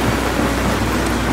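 Heavy rain pours down at a roadworks site where fill is being compacted. It makes a dense, loud, continuous roar with a deep rumbling low end that suggests thunder, with no pauses.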